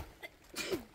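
A single close, sharp sneeze with a short intake of breath before it, on a Pacific Crest Trail hike in Lassen Volcanic National Park, alone in a quiet setting.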